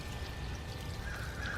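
Water mixed with liquid root stimulating fertilizer pours onto a freshly transplanted garden plant, a steady soft trickle and splash up close with no talking.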